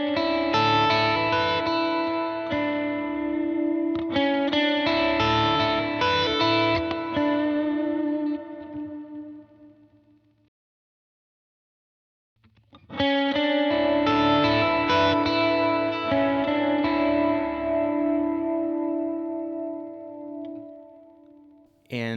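An electric guitar plays ambient chords through a reverb pedal, either a Cloudburst or a Walrus R1, with long shimmering washes that ring out and decay into silence before a second strummed passage swells up.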